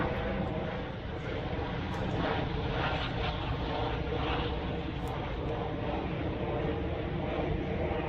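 Helicopter noise during a theatre performance, a loud continuous rotor and engine drone that holds steady throughout, with muffled voices faintly underneath.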